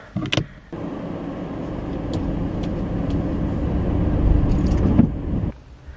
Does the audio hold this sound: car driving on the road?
yes